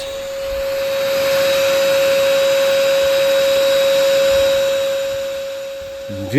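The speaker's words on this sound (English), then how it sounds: "instead of bellows he used an ordinary vacuum cleaner" A loud vacuum cleaner blowing air into a forge in place of bellows whines steadily with a strong constant tone, swelling slightly then easing off before a short knock at the end.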